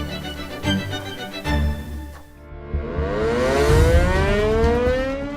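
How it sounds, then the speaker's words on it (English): Civil defense sirens blare across Okinawa, Japan: after a few dull thumps, a loud wailing tone sweeps upward and holds, spreading in layered echoes. "Sirens blared in Japan's Okinawa once again."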